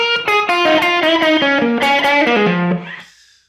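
Electric guitar plays a slow blues lick: a quick run of picked, slightly overdriven notes descending in pitch, loud and close, ending with a sustained bend that fades out.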